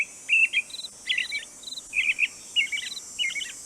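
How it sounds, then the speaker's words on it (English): Bird calls in the video game Nancy Drew: Ghost Dogs of Moon Lake, a series of short, bright chirping phrases repeating every half second or so over a faint steady insect-like hiss, with no talking. "I think we can get one more bird before Nancy will realize it's a bad idea to not have some sort of camouflage when hunting for birds."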